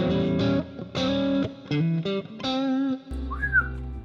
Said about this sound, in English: if I go to the neck and the middle pickup, it's that signature Strat sound